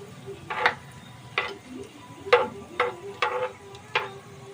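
Whole spices sizzle in hot oil after fenugreek seeds for a pomfret masala, with a soft steady frying hiss broken by about six sharp clinks and scrapes of a spoon stirring in the pan.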